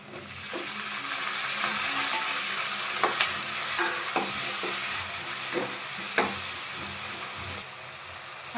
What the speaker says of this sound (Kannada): ನಾನೀಗ ಟೊಮೆಟೊ ಹಾಕ್ತಾಯಿದ್ದೀನಿ.